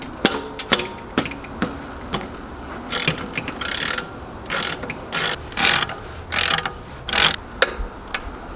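A ratchet loosens a big slide pin bolt on a Honda Accord EX-R with rapid clicking, moving from short separate strokes to longer buzzing runs of pawl clicks, loud and close.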